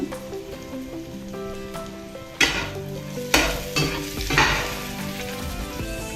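Ingredients for cucumber chutney fry in a pan and get stirred, giving a steady sizzle broken by several louder scraping stirs, with soft music underneath.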